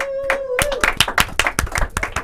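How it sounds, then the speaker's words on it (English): A round of applause for donors and sponsors at a river alliance fundraising event: a dense burst of hand claps, close and steady, with a brief tone at the start. "Please give a big round of applause to all of today's donors and sponsors."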